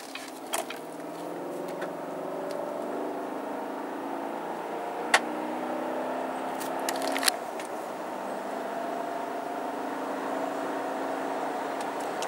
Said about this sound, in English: And as I pull out here, we're just going to do a normal acceleration.